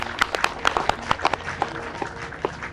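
An audience at a kavi sammelan poetry gathering applauds a poet with sharp, distinct handclaps that come unevenly and thin out toward the end. A faint murmur sits underneath.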